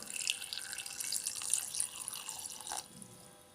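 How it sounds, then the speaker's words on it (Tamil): Water is poured over chopped vegetables in a clay pot for a Tamil curry, making a soft, close splashing and trickling that fades out after about three seconds. "காய் மூழ்கிறதுக்கு தேவையான அளவுக்கு தண்ணி விட்டுக்கலாம்"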